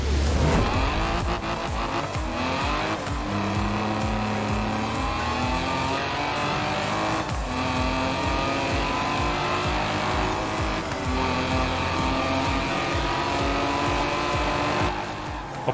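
BMW 2002 racing in Forza Horizon 4, its engine droning steadily throughout with rising and falling revs at gear changes and occasional tire squeal, loud and continuous with music-like tonal layers.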